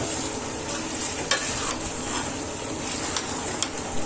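Chicken pieces stirred and fried with ground cumin and garam masala for a turnip chicken curry, a steady close sizzle with occasional sharp scrapes of the spoon against the pan.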